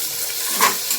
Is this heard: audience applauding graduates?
no